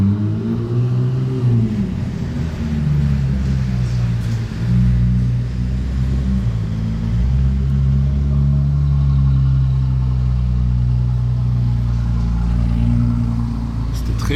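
A Ferrari 296 fitted with Novitec wheels, its engine giving a loud, deep, steady rumble nearby with slight rises in revs, running continuously at a circuit.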